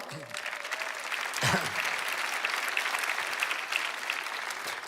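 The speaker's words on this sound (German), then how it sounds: "Applaus, vielen Dank." Audience applause at a church event with sign-language interpretation, following a sermon; a continuous even wash of clapping, fairly loud and sustained, with a brief low voice-like sound near the start.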